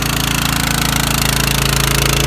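Harbor Freight trash pump's small gas engine running below full throttle, a loud, close, steady rapid chugging drone with fast even pulses.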